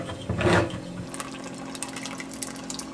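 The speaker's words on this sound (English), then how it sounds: "We're going to take the coconut milk and we're going to" Coconut milk pours into a pot of spicy butternut squash soup in a brief liquid gush lasting under a second, followed by quiet kitchen background.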